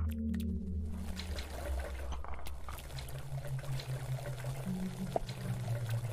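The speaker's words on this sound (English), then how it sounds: "it's just bubbling up for some reason whenever I stand on this" Liquid bubbling up in the video game BirdGut, a steady low gurgling churn with watery trickles running continuously throughout, moderately faint and without talk.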